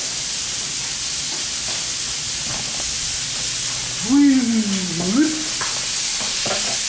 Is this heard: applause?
no